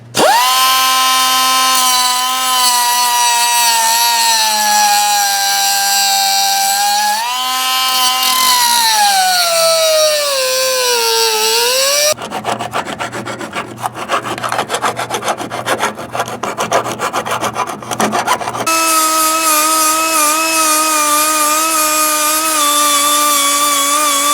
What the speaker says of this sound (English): with a cutoff wheel